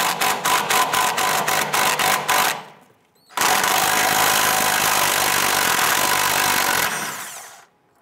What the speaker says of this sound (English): Using a 13 millimeter socket, go ahead and loosen and remove this bolt.